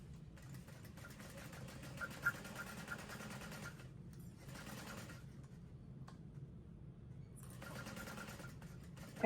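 A sewing machine stitching a second row along the curve of a handbag, running in quiet mechanical bursts separated by short pauses, the needle's rapid rattle close and soft.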